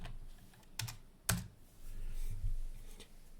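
A brief burst of a command being typed on a computer keyboard: a few distinct key clacks, one sharper strike, over faint room noise, no voices.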